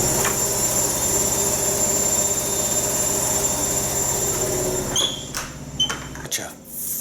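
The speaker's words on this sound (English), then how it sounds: "Such a violent spin cycle." A vertical-spin washing machine running a violent spin cycle, a loud droning rumble with a steady rhythmic thump that drops away near the end into a few clunks and rattles.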